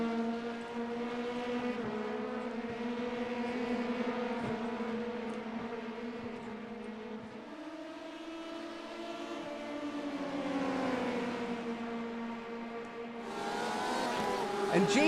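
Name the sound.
LMP race cars racing at Daytona in a racing video game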